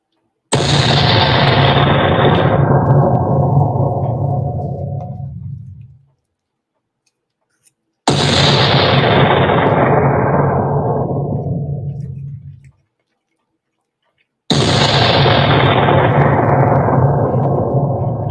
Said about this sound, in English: So fire the cannons.